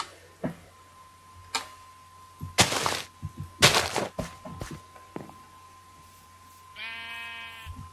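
One sheep bleats near the end in the video game Minecraft, a clear wavering call that comes after a run of clicks, thuds and footstep-like knocks in quiet surroundings; no talking.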